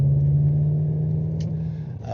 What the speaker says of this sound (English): the ECS tuning exhaust sounds great